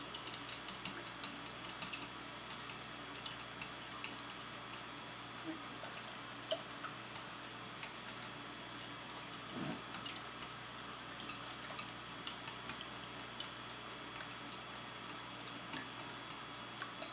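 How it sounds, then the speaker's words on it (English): A small whisk beats quiche filling for a spinach and mushroom quiche, producing a long run of rapid, light clicking taps against the bowl, steady and close with no voices. "we are now going to use our little itty bitty whisk. And we is going to whisk this."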